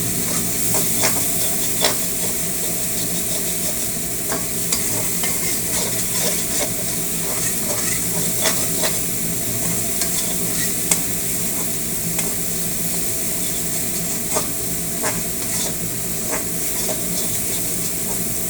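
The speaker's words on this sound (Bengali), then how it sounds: "দেখেন পোস্তটা এইভাবে লাল লাল করে ভাজতে হবে।" Poppy seeds (posto) fry in a pan with a steady, close sizzle, broken by regular scraping strokes as they are stirred, with no voices.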